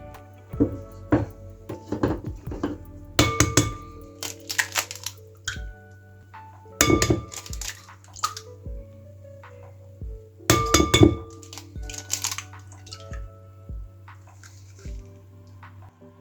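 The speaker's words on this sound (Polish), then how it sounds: "Bierzemy dużą miskę, wbijamy do niej jajka" Eggs are cracked into a large bowl for a chocolate cherry cake batter, giving several sharp clinks and taps of shell against the rim in short clusters, with quieter handling sounds between, close and unaccompanied by speech.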